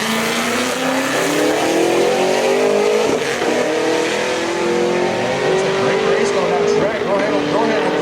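A four-cylinder Honda EG Civic and a Camaro street race at Street Car Takeover Bristol 2023, their engines roaring loud and close with a steadily climbing pitch as they accelerate hard, while a commentator talks over them.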